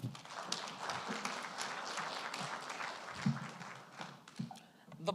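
Applause from the audience at a SADC-DFRC CEO's forum relaunch, a steady patter of many clapping hands over the full stretch, moderately loud, with some voices mixed in.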